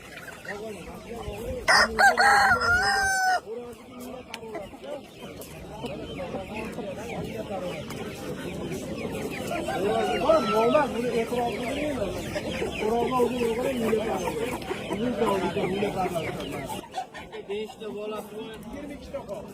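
A Brahma rooster crows loudly and clucks close by at a poultry market, with other fowl calling around it while people haggle over prices throughout.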